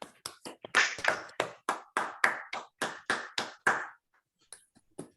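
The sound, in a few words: audience applause for a speaker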